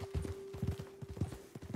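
Horse hooves clip-clop at a steady walking rhythm in the video game Red Dead Redemption 2, close and moderately loud over a constant background tone, with no other sounds on top.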